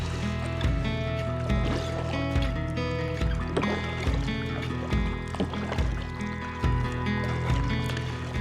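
A lightly loaded kayak carrying only a person and a little camera gear glides on open water near smooth rocks, with rhythmic paddle strokes splashing and dripping at close range at a steady pace.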